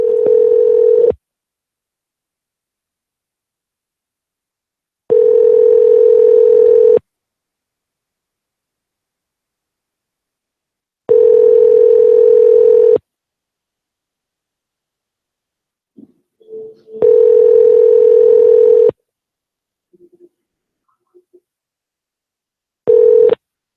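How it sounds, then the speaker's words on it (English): A loud telephone ringing tone sounds while a call is placed, a steady tone about two seconds long that repeats roughly every six seconds, with silence between rings. "let's just give them a call, see what happens"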